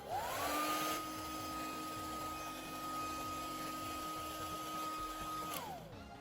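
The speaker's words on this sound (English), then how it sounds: "The hairdryer. Watch this." A steady electric whine of a hair dryer's blower motor spins up, runs continuously at an even pitch, then winds down as it switches off.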